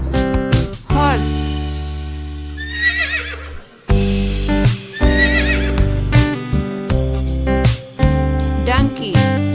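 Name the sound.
horse neighing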